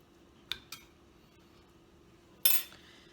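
Old Bay salmon fillets being flipped in an air fryer, heard as a few faint metallic clinks and taps from the utensil and basket: two small knocks early, then a sharper clatter near the end in a quiet kitchen.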